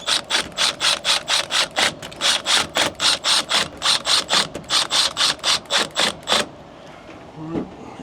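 Wire snips cut through cables in a house switchboard after a fire, giving a rapid series of about two dozen close, sharp clicks in a steady rhythm, then a quiet stretch.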